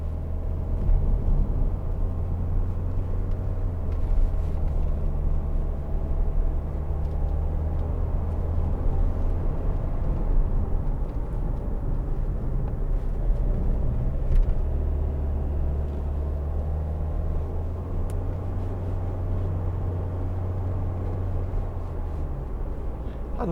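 A 2010 Kia Sportage 2.0 CRDi diesel driving on country roads, a steady low cabin rumble of engine and tyre noise, continuous and even, with faint bumps and no talking.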